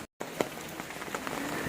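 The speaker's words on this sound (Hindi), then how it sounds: "यहाँ आज तो एकदम सुबह से बारिश हो रही है।" Rain falls steadily on a surface, a constant close patter with scattered louder drops, after a brief silent gap at the start, in Ella, Sri Lanka.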